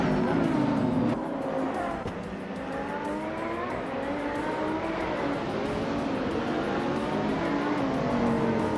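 Race cars in a racing game pulling away from the start, a 2017 Audi R8 leading from pole at Capone Raceway Club; loud layered engine whine and rising revs from several cars, steady and close throughout.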